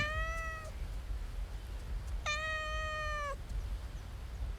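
A domestic cat meows twice, a short call and then a longer drawn-out one, clear and fairly close over a steady low background hiss.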